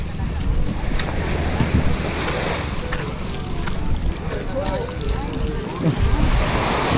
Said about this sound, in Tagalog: At meron lang din po dito ang kararating na bangka